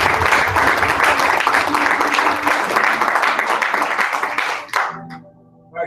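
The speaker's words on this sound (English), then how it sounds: "So let's have Marcus come on out, give him a great hand." Audience applause welcoming a speaker onstage at a live NYC event, dense and sustained clapping filling the room before cutting off sharply near the end.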